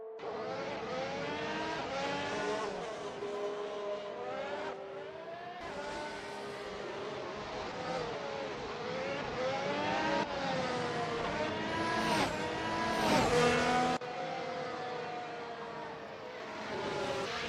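Race cars roar around a fast street circuit in the Assetto Corsa racing game, a 2021 Saudi Arabian Grand Prix event, engines revving and shifting up and down in repeated sweeps, with several cars passing close and loud.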